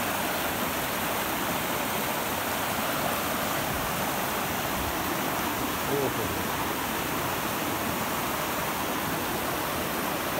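Miring Khola, a large river in spate, rushes in a steady, dense roar that fills the whole stretch, close and unbroken with no clear pauses or individual splashes.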